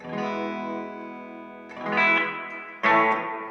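Sustained electric guitar chord with a thin, bass-light tone from a knob cutting the low end, followed by two more strummed chords that swell in, ringing with effects.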